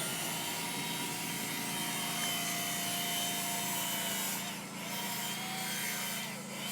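A butter knife rubs against a moving abrasive sanding belt like emery cloth, giving a continuous loud grinding rasp with a steady machine hum and brief dips as the blade is lifted.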